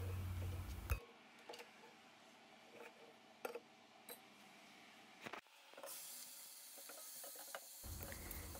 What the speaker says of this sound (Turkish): 1 yemek kaşığı zeytinyağı, 1 adet kuru soğanlı kokusu çıkana kadar kavuralım.